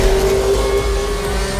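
A Mercedes-AMG hypercar running a full Formula One power unit with two extra electric motors on the front axle drives past, its loud, steady high-pitched engine note droning continuously and close throughout.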